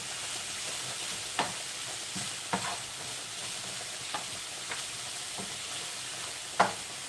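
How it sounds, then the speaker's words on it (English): Cabbage and onions fry in a pan with a soft, steady sizzle, broken by a few sharp clicks and scrapes of stirring, all fairly quiet and close with no voices. "I'll fry the cabbage and the onions and the other stuff."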